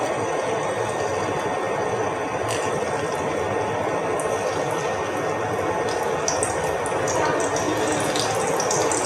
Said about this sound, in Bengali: তেল সম্ভবত গরম হয়ে এসছে। একটু একটু করে ছেড়ে দিচ্ছি।